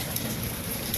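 Heavy rain falls steadily during a year of heavy rains, a dense even hiss of drops across the whole short moment, moderately loud and unbroken, without any voices.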